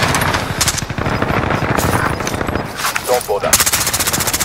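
Rapid automatic gunfire in the battle royale video game Call of Duty: Warzone, loud dense bursts of shots rattling almost continuously close by, with brief radio-style voice lines over it.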